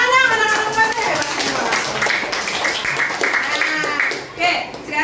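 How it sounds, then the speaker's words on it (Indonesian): Schoolchildren in a class of 4D clap together in a classroom, a close, busy patter of small hands, while young voices call out over the clapping. "Tepuk tangan dong anak-anak 4D."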